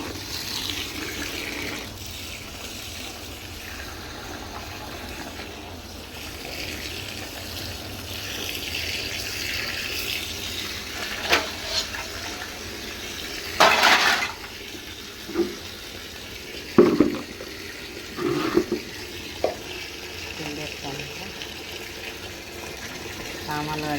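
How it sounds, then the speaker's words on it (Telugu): Water runs steadily from a tap while clothes soak in a household sink or tub. The flow is a constant mid-level wash, with a few sharper knocks and splashes near the end and a voice faintly present. "చూడండి బట్టలతో నానేస్తున్నాను"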